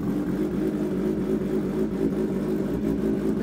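A Stage 2 Kawasaki Ninja H2 motorcycle engine runs in a steady, loud, deep drone, close by, with no talking over it.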